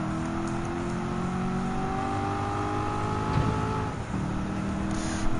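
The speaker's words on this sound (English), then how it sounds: "make that acceleration to go full throttle" A car's engine accelerates at full throttle in Gran Turismo 7 during Corvette practice laps, a steady rising drone with layered harmonic whine held loud and continuous for several seconds.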